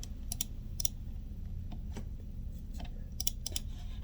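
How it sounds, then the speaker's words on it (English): Scattered computer keyboard key taps, sparse and fairly faint, sit over a steady low background hum with no talking. "Right here, you would type in your numbers,"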